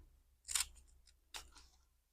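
Small scissors snip through paper while a botanical garden window is made for a whimsy journal, two crisp close cuts about a second apart, quiet otherwise, with no talking.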